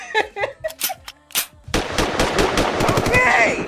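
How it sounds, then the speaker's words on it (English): Gunshot sound effects ring out in a rapid burst like automatic gunfire after a few seconds of voice-like sounds, loud and dense at the end. "gunshots"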